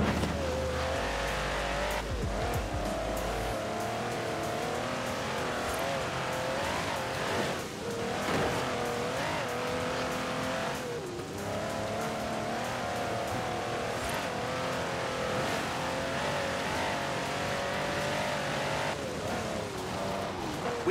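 A Mercedes G63 6x6 with a 5.5-litre twin-turbo V8 driving in Forza Horizon 4: a steady, loud engine drone with bursts of tyre squeal, continuous throughout.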